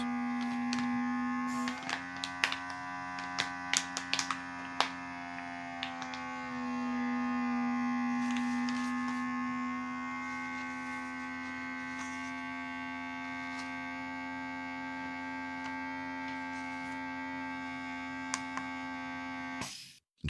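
A Wyxexx X7 3-in-1 vacuum sealer runs over a bag valve with a steady close electric hum and whine, a few clicks near the start, cutting off abruptly at the end.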